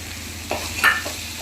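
Broccoli and onion stalks fry in a pan with chopped coriander leaves and green chillies, a steady close sizzle broken by two or three brief stirring scrapes, with no talking.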